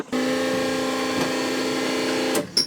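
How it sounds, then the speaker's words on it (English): A fuel pump in a modified SRT-4-powered Caravan van whines steadily with a bright, even tone held for over two seconds, then stops abruptly with a brief clatter at the end. "That's how the pump's supposed to sound."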